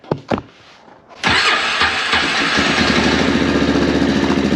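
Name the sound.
450 engine sputtering while low on gas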